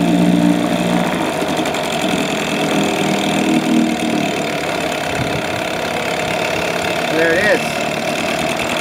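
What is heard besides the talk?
two-stroke boat motor starting and idling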